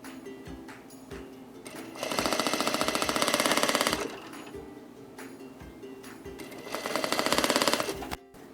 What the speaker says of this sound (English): we're just sewing right over the top of that zipper